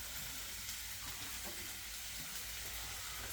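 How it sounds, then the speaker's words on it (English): Onion frying in a pan for a cabbage teriyaki tofu meal, a soft continuous sizzle with faint crackle, quiet and close, without any voices. "now I'm going to put the onion on here to start frying"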